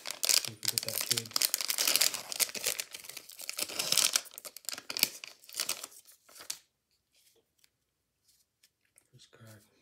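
A 2021-22 Panini Chronicles Draft Picks basketball card pack is torn open, its wrapper crinkling and ripping loudly and close for about six seconds before falling almost silent.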